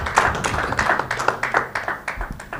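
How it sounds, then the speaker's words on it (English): A small audience at a Mediation Week event claps for the people who gave demonstrations, a short run of separate, uneven claps rather than a full roar, with no talk over it. "can I get a round of applause for those who did the demonstrations today?"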